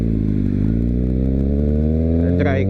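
A big secondhand motorcycle with a dry clutch idles and runs steadily nearby, its low engine note rising slightly in pitch, with a rattly edge and a brief clatter near the end.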